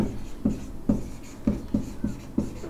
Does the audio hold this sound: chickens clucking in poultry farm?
no